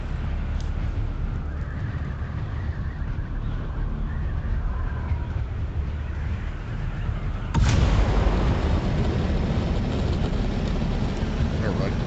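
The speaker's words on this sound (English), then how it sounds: "I'm hearing a lot of explosions outside. Like, they're louder than fireworks." Rumbling explosions boom outside in the video game Dune Awakening, a dense, continuous low roar with a sharp blast near the end that turns louder and harsher.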